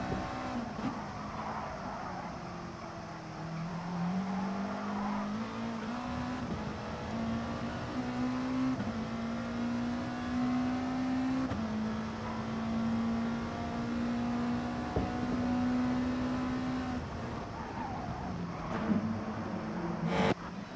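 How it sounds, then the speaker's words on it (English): Onboard a race car during an endurance race, the engine drones continuously at high revs, pitch rising and dipping with gear changes and throttle over about twenty seconds, loud and close with road and wind noise. "He loves driving this car sideways."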